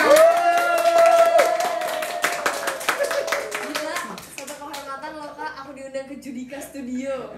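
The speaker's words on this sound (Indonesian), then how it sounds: "Tepuk tangan buat Natasha." Studio guests clap for Natasha Wilona over sustained rock-and-roll music, the clapping sharp and close, then thinning out as the music drops and voices talk underneath.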